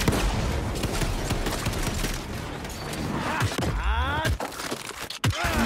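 Rapid gunfire and explosive booms from the video game Shadow Warrior 3, a loud, dense barrage of shots with swooshing, metallic effects and heavy impacts toward the end.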